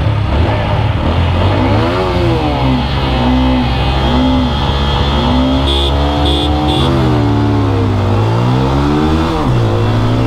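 A TVS Apache RTR 160 4V and a Bajaj Pulsar N160 in sports mode drag race, with a loud, close engine roar that repeatedly climbs in pitch and drops at each gear shift, continuous throughout.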